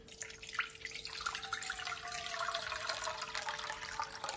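Water pours in a steady stream into tomato sauce, a continuous splashing gurgle at moderate volume over a faint background hum.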